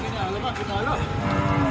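A milking cow moos at a cattle market, one close, fairly loud, drawn-out low call with faint crowd murmur behind.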